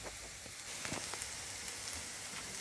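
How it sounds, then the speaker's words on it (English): Garlic sautés in hot oil with a soft, steady sizzle and a few light crackles, fairly quiet and close, with no voices. "So I am going to saute my garlic."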